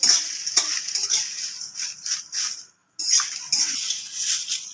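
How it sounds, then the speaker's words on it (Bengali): Onion peels fry in a pan over medium heat with a steady crackling sizzle and occasional stirring scrapes. A brief silent gap falls near the middle. "এভাবে খোসাগুলো আমি খুব ভালো করে ভেজে নেব"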